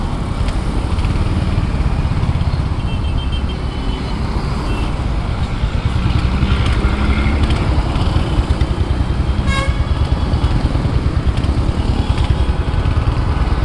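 A Royal Enfield Hunter 350 motorcycle is ridden along a road, its engine thumping loud and close under heavy wind rush, with a brief horn toot partway through.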